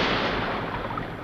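A submarine fires a torpedo from its tube in a 1968 British sea adventure film, heard as a loud, close, rushing blast of air and water that fades gradually over about a second.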